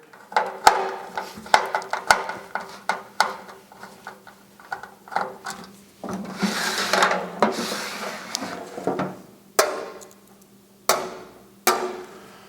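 Last screw worked out of a Coleman FyreKnight Hyperflame propane stove, heard as a run of close, sharp ticks and small scraping rasps from the screwdriver and metal, uneven in rhythm and moderately loud.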